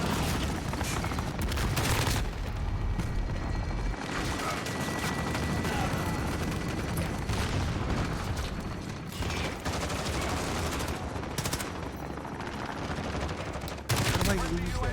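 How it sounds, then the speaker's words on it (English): Rapid bursts of automatic gunfire and explosions from a Call of Duty match, loud and dense with brief pauses, mixed with a voice talking over the game. "I just spawn and fire my gun."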